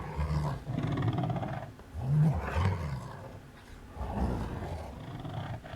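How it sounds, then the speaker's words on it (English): A fingernail scraped across cardboard boxes of different sizes produces deep, rumbling monster-like growls and roars in several swelling bursts, close and fairly loud, with no talking. "I'm actually just scratching my nail over the box."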